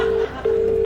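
A telephone plays two short steady dialing tones with a brief gap between them, clear and close, on an Irish TV quiz show placing a call.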